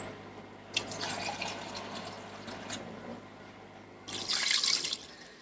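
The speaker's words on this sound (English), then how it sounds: "You want the water to come up and cover the chicken." Water runs and splashes into a soup pot over chicken, a steady rushing flow that swells louder near the end before cutting off.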